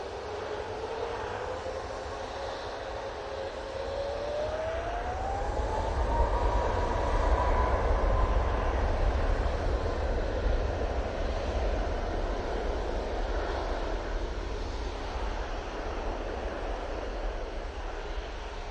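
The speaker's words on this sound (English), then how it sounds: "we'll just get this Ryanair departure then." A Ryanair jet departing Manchester Airport roars steadily, swelling louder midway with a rising engine whine, then easing into a sustained, slightly fading rumble; no talk over it.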